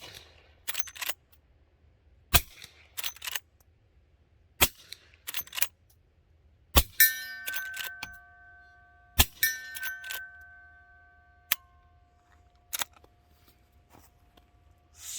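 A suppressed lever action rifle fires subsonic rounds in the snow, giving sharp, muffled cracks spaced a few seconds apart with metallic lever clatter and a ringing ping between shots, outdoors and fairly close.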